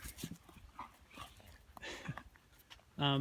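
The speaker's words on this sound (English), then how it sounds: "Excuse the dogs." A dog whimpers and pants softly nearby with small whines and snuffles, ending in a brief higher yip.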